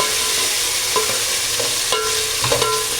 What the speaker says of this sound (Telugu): టమాటా వేసేసి కొద్దిగా కలిపేసుకోవాలి